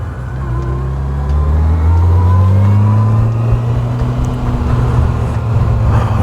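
A Jeep with a 400-horsepower V6 accelerates hard on a road near Reno, its engine note rising steadily in pitch as it pulls, loud and close, with no talking.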